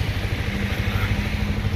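A motorcycle engine runs steadily close by as the rider sets off, a continuous low rumble with no talk over it.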